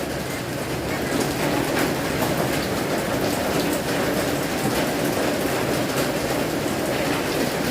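Steady rain falling in Bangkok, a dense continuous patter and hiss of drops on surfaces, loud and close throughout with no pauses.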